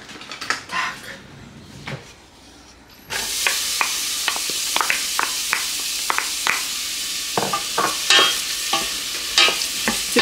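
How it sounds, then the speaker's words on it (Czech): Onion fries in oil in a hot pot for homemade sauerkraut, starting with a few quiet clinks before a loud steady sizzle takes over, punctuated by frequent scraping stirs and spatters close by. "Cibuli si hezky osmažíme do zlatova"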